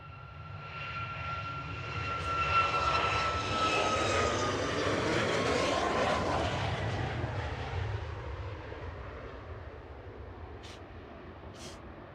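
A Boeing 757 jet passing at Manchester Airport, its engine roar swelling over several seconds with a high whine, peaking midway, then slowly fading as it moves off.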